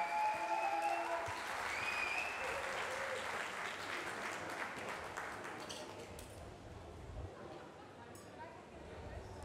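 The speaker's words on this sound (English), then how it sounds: "once again, ladies and gentlemen, a big applause for Dwayne Panka" Sustained audience applause fills a boxing event after a fight, loud at first and slowly tapering, with a dense crowd clapping throughout.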